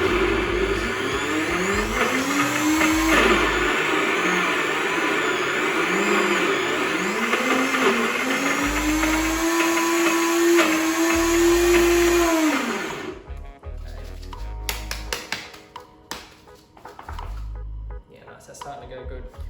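A small blender grinds walnuts and oats for a tart crust, a loud steady whirring motor whose pitch rises and dips as the contents churn for about thirteen seconds, then cuts off; a voice speaks briefly over it.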